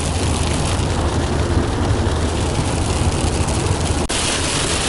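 Heavy rain drumming on a car driving through Kansas, a loud, dense, unbroken roar of noise with a brief dip near the end.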